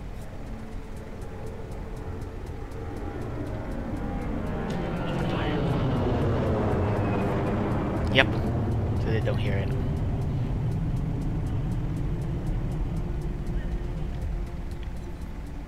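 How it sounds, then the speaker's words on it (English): Airplane passing at an airport in the video game Ghost Recon Future Soldier: a broad, steady engine roar that swells toward the middle and slowly fades, with a falling whine and sporadic game sounds beneath it. "Wait for an airplane."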